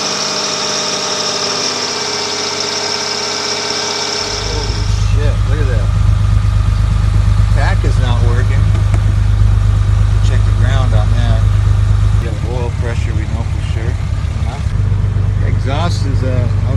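A DIY repowered sailboat engine in Hawaii starts up after a few seconds of quieter hum and settles into a loud, steady, close idle with a low, even throb, while someone talks over it.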